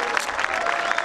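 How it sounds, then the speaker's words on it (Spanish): A crowd claps steadily for a rock band, a dense wash of applause that stays close and even throughout the short burst, with faint cheering mixed in. "Fuerte aplauso."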